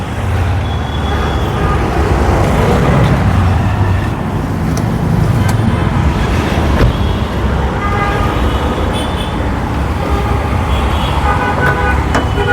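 A Toyota Noah Esquire's engine idles with its bonnet open, a loud steady rumble that holds throughout, joined by a few faint clicks and knocks.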